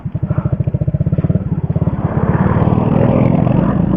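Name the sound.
motorcycle engine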